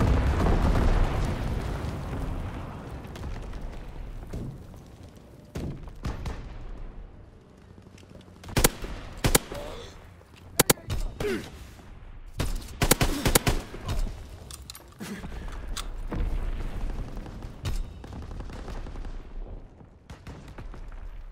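Explosions from a low-altitude incendiary firebombing run in the World War II shooter Call of Duty WWII, rumbling heavily with scattered sharp blasts and pops in a dense barrage, loud and continuous.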